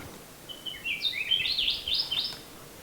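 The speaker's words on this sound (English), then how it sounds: "that's the female Aki" Song of a female Aki, a native Hawaiian bird on the Big Island: a thin, high warbling phrase of rapid rising and falling notes, clear and fairly close over steady outdoor background hiss.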